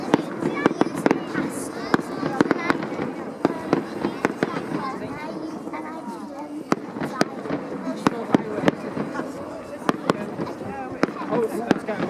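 Fireworks banging repeatedly on a bonfire night outing, sharp cracks scattered throughout at irregular intervals, some near and some farther off, under steady crowd chatter and nearby voices talking.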